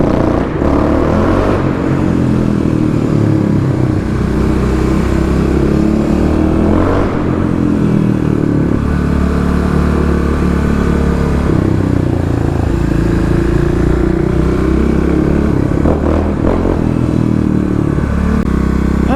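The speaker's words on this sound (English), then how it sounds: "We got some big backfires going on today." A car engine in a parking lot revs hard and loud throughout, with a sharp crackle or two that could be backfires, sustained close up without talk.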